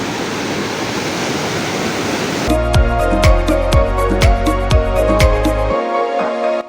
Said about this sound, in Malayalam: ഇവിടെ നിന്ന് കഴിഞ്ഞാൽ വെള്ളം ഒഴുകി പോകുന്നതിൻ്റെ ഭയങ്കര സൗണ്ടാണ്